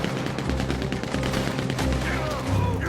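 Rapid bursts of Gatling gun fire ring out in Red Dead Online, a loud, sustained rattle of repeated shots filling the scene with little pause.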